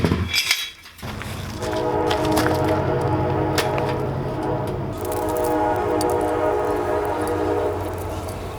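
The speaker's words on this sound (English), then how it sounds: "Train's here." A train rolls past near a backyard fire pit built from salvaged metal, a steady loud rumble with wheel squeal and clatter that holds for several seconds after a sharp opening sound.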